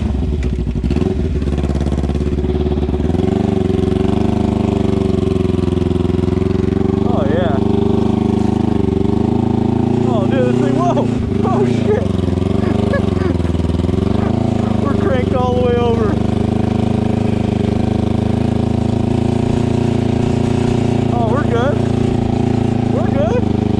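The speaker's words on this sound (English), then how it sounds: "we're gonna do a first test drive right now" A modified lawnmower engine, built to exceed 80 mph, runs loudly and close, a rough throbbing drone that idles and revs with pitch swells throughout, while people talk and shout over it.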